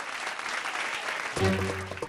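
Clapping from a crowd at a housing-society election gathering goes on in a steady patter, then a voice breaks in near the end over the fading applause.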